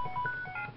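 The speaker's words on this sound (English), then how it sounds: "X-Transceiver is ringing." Short electronic ringing chime from the X-Transceiver in the Pokemon White video game, a bright beeping tone pattern heard briefly on its own.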